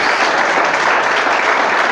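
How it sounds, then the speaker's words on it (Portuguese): Congregation applause during a church service, a steady dense wash of clapping filling the whole two seconds at close, loud level with no talking. "Vamos aplaudir o Senhor."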